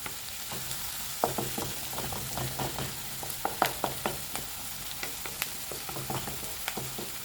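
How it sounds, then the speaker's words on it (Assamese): Chopped onions and green chillies fry in a pan over a medium flame, a steady close sizzle broken by repeated light taps and scrapes of a stirring spoon. "মিডিয়াম ফ্লেমত ভাজি আছোঁ"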